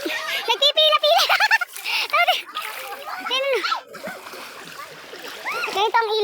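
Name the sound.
river water splashing with children bathing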